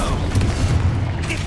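Confringo spell explosions in Hogwarts Legacy, a dense run of loud booming blasts rolling one into the next, backed by continuous game action.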